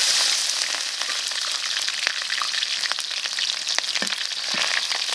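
Ginger and garlic sizzle in hot vegetable oil while a Sichuan-style pork intestine and chicken dish is being cooked, a steady bright crackling frying hiss with scattered small pops and occasional stirring scrapes throughout.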